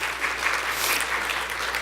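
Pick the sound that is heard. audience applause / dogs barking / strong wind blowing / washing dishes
audience applause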